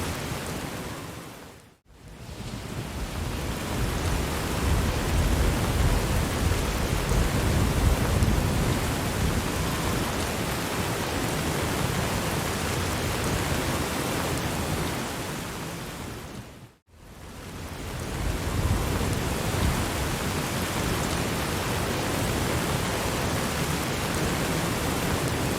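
Heavy rain with rumbling thunder in a video game, a loud continuous downpour hiss with low rolling booms, briefly cutting out twice before resuming.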